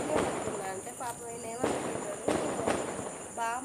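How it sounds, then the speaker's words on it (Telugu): Firecrackers burst in a repeated series of sharp cracks and pops at moderate distance, with someone talking over them throughout. "oh వినబడతాను bomb sound"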